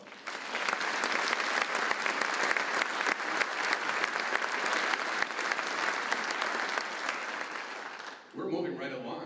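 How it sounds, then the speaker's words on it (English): A concert audience applauds an orchestra and its soloists in a long, steady wash of dense clapping that holds for about eight seconds, then cuts off sharply and a voice begins speaking. "Give them all a nice round of applause."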